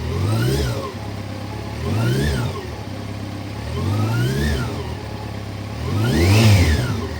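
A nearby 2006 Yamaha FJR 1300 motorcycle engine revs four times in rising and falling surges, idling briefly between each, with the final rev the loudest.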